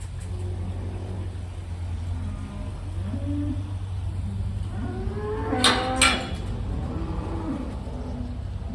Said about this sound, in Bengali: এই শেডে যত গরু আছে সবগুলো বোকনা বাছুর